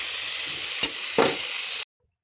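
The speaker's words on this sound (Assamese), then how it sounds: "মই ভাজি আছোঁ, মই এতিয়া নিমখ দিছোঁ।" Potatoes frying in hot oil give a steady, close sizzle, broken by two quick scrapes of stirring before the sound cuts off abruptly.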